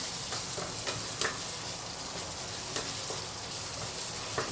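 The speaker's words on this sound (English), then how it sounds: "After sauteing, I'm adding in the yellow onion." Yellow onion sautéing with sambal belacan in a pan for fried fish, a steady close sizzle and frying hiss with occasional soft stirring scrapes, no voices.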